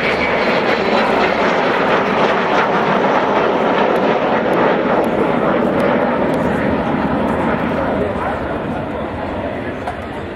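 An Avro Vulcan bomber flies overhead at an air display, producing a loud, dense, continuous jet roar that eases slightly toward the end, with a commentator speaking over it.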